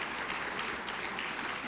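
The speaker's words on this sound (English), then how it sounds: "So please give Miss Kayla Reed a round of applause." Faint, distant round of applause from the audience at a 2016 St. Louis circuit attorney debate, a brief soft patter of many hands.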